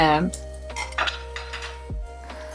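Jaggery goes into a pot of South Indian milagu kuzhambu, a pepper and tamarind curry, with clattering metal spoon-and-vessel clinks and scraping against a steady background hum, close and fairly clear.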